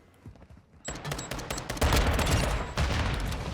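Rapid akimbo pistol fire from dual GS Magna handguns in Modern Warfare 2, a dense fusillade of loud overlapping shots starting about a second in and continuing steadily to the end with no talking.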